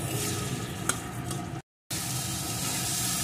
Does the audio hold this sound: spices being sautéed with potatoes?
yes